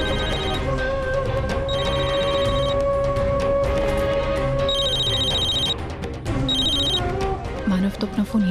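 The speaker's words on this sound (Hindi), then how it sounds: "मानव तो अपना फोन यही भूल गए" A mobile phone rings in repeated short electronic bursts over a bed of dramatic TV-serial background music, loud and close, with a voice murmuring near the end.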